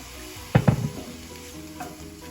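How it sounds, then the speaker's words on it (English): Stock hits a hot pan with seasonings, giving a sudden loud burst of sizzling that quickly fades to a quieter steady fry, with a faint clink near the end. "I'm going to add in a little stock here."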